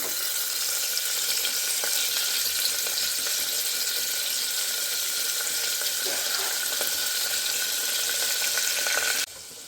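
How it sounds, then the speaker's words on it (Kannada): Biryani masala fries in oil in a pressure cooker, a dense, steady sizzle that holds at the same loudness and stops abruptly near the end, with no talk over it. "ನೋಡಿ ಮಸಾಲೆನ ಸ್ವಲ್ಪ ಎಣ್ಣೆಲಿ ಫ್ರೈ ಮಾಡ್ತಾಯಿದ್ದೀನಿ"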